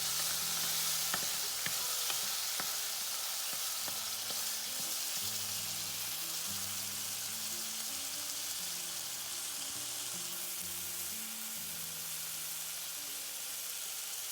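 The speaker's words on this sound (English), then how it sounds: "Don't to let it simmer for about a minute." Shrimp brothy rice bubbling and sizzling in a pan, a dense and steady frying hiss that lasts throughout, with scattered light clicks and a low hum underneath.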